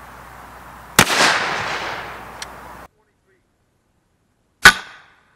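A Smith & Wesson 916A pump shotgun fires Winchester Supreme double-aught buckshot outdoors: one loud blast rings out with a long decaying echo, and a second sharp report follows a few seconds later.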